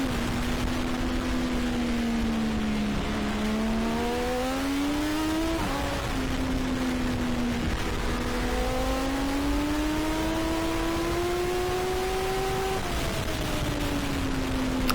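An in-car race car engine at the Nogaro circuit rises through the gears in long climbing whines, pitch dropping at each shift, loud and continuous throughout.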